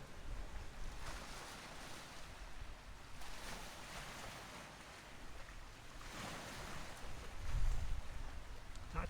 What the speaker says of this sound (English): That tide's rolling in nice anyway.